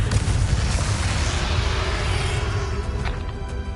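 Blasting explosion from the Confringo spell in a Harry Potter video game, a loud sustained booming burst with heavy low rumble that fades slowly across the clip, with no talk over it.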